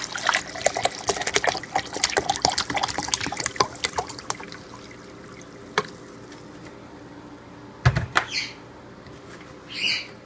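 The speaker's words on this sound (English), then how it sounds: "I'm going to go ahead and get 4 cups of white distilled vinegar." White distilled vinegar poured into a measuring cup for canning hamburger dill pickles, a close, lively trickling stream with splashy drips that thins out, followed by a few scattered clinks and bumps.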